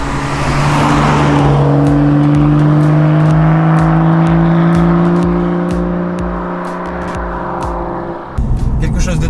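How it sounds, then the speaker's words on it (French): A 2018 BMW M2 fitted with the M Performance exhaust drones loudly and steadily while driving, its engine note climbing through the revs before a sudden shift near the end. "ça vous permet vraiment de vous faire plaisir avec un échappement qui est assez exceptionnel."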